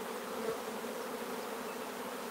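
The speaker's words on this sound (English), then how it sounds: "Look at these frames of bees and broods." Honeybees hum on hive frames of bees and brood in an opened colony, a dense, steady buzzing drone close by, fairly quiet and unbroken with no voices.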